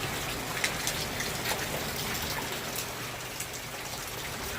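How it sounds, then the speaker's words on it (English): Rain pours outdoors and water drips off the edge of a roof, a continuous close wash of falling water with scattered louder drip taps and no talking. "See the water dripping from off top of the roof."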